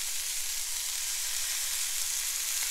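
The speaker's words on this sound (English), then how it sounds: "crisping up the bacon. So get a nice little sizzle" Bacon sizzling in a frying pan, a loud, steady crackling hiss that continues throughout with no voices.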